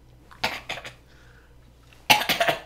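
Two bursts of coughing close to the mic, a short series of harsh coughs, a pause, then another quick cluster.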